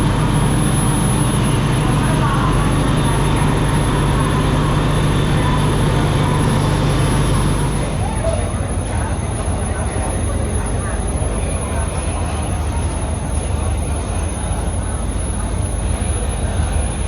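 A crowded Hua Lamphong railway station in Bangkok awaits a steam locomotive, with a loud, dense wash of crowd murmur and station rumble that shifts partway through, plus a steady high whine.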